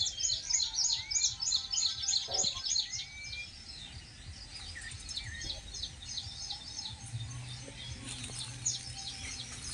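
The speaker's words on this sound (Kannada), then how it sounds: "ಈ ಪಕ್ಷಿಗಳ ಕಲರವನ್ನು ನಾವು ಕೇಳಲಿಕ್ಕೆ" Flycatchers chirp in quick, high, repeated bursts, strongest at the start and then fainter and sparser, in a quiet outdoor setting with light background noise.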